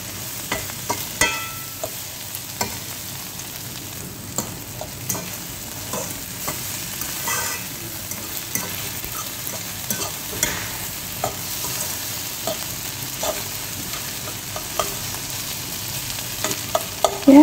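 Sautéed bitter gourd (ampalaya) with egg is stirred in a pan, a steady sizzle broken by frequent clicking scrapes of a utensil against the metal throughout.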